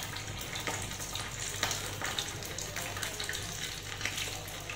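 Chicken pieces fry in hot oil for a restaurant-style chicken Manchurian, with a bubbling, crackling sizzle, scattered pops and a low hum running underneath.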